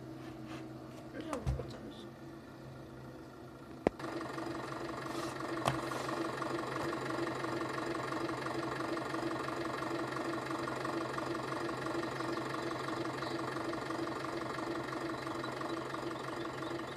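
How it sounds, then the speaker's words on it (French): A video game car engine idles with a steady low mechanical hum and faint knocking, continuous throughout, with a couple of brief sharp clicks near the start. "C'est ton moteur, hein."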